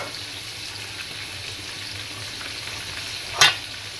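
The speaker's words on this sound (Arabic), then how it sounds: "حبايب قلبي الرز بيغلى اهو" Pot of basmati rice with peas and carrots at a gentle boil, a faint steady bubbling hiss with one short sharp clatter near the end.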